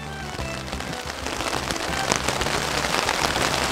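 Heavy monsoon rain pours down, a dense steady hiss of drops drumming on surfaces close by, building slightly in intensity, with no voices.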